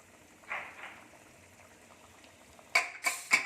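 Rajma curry simmers in a covered pot on a low flame, giving a quiet background hiss with a few soft bubbling bursts, one early and a cluster of louder blips near the end.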